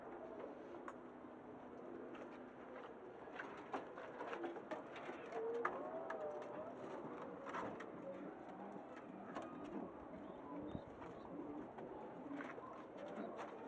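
A male and female pigeon pair coo softly and repeatedly in a nesting pot, low murmuring calls running steadily throughout with faint rustling and no talk.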